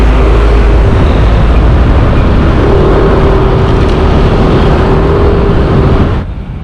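Continuous loud engine drone while riding through San Fernando, Pampanga streets, a steady hum with a faint rising tone and wind rush, cutting off abruptly near the end.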